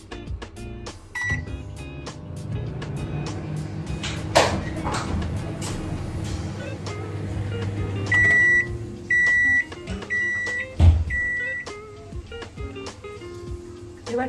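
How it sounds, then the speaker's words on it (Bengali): A microwave oven steaming a covered bowl of hilsa for bhapa, running with a low steady hum, punctuated by door and cupboard knocks and a series of short high beeps near the end, with brief voices in the background. "এবার এই বাটিটা ঢাকা দিয়ে মাইক্রো ওভেনে ঢুকিয়ে দিচ্ছি। টাইম দিচ্ছি 7 মিনিট।"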